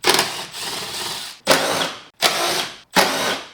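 A power tool spins out the 10mm bolts holding the air box couplers on a C8 Corvette Z06, in four loud, close whirring bursts separated by brief pauses, with no talking.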